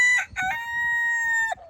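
A rooster on a farm gives a loud, close crow, with two choppy opening notes and a long held tone that breaks off abruptly, while chickens stay faintly in the background.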